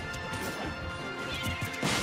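Inkling bomb bursting on impact in Super Smash Bros, a loud smash and crash amid rapid in-game hits and whooshes, with a heavy blast at the end.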